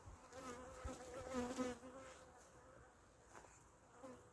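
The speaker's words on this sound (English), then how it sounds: "So get ready for angry bees." A steady, droning hum of many honeybees buzzing close by at a hive, swelling and easing slightly, with no voices.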